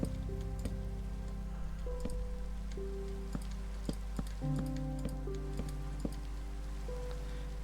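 Steady rain pattering in the video game Minecraft, a continuous soft hiss of drops with a low hum beneath and sparse tonal game sounds and clicks over it, no talk.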